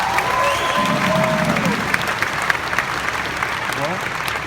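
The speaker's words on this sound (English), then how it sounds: "Can you give all of yourselves one big applause?" A large audience at a OneCoin event in London applauds loudly, with dense clapping and some crowd noise, while a voice carries over it at times.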